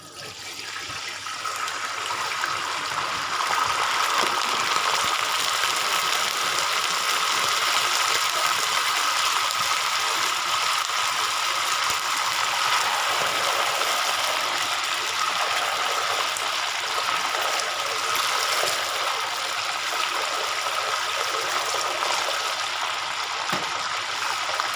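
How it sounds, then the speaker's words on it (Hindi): Water is poured into hot melted sugar in a pan for suji halwa, making a loud continuous hissing, bubbling rush that holds steady throughout with no voices. "अब हम इसमें पानी शामिल करेंगे।"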